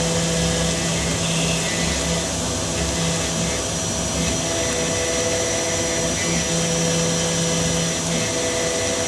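A Carvera Air CNC milling machine cuts material with a steady, loud, continuous whine and grinding roar throughout, a constant high-pitched machining drone with no talk.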